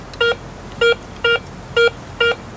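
A Garrett ACE 250 metal detector set to all-metal with no discrimination gives five short, evenly spaced mid-pitched tonal beeps over a gold target, clear and close against faint background hiss.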